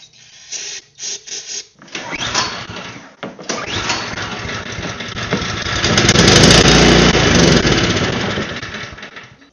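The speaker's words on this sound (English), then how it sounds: "I'm gonna see if it'll start on carb cleaner" A small, corroded snowblower engine is fed carb cleaner and sputters, coughing in short bursts before catching and running roughly, loud and close, then swelling to a fuller roar.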